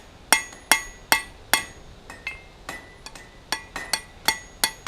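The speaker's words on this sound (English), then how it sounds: "Might have been a little aggressive with those final hammer blows there." Blacksmith's hammer blows forging a taper on hot steel at the anvil: a steady run of about a dozen sharp, ringing metallic strikes, close and loud, with lighter rebound taps between them and no talking.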